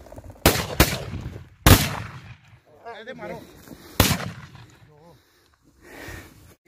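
Gunshots while hunting white partridge crack out as several loud, abrupt blasts, two close together and then two more spaced apart, with people talking in between.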